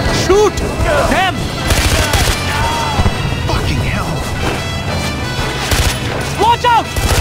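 Gunfire in Far Cry 4 amid a dense, constant roar of game action, with crashes, bangs and shouting voices throughout.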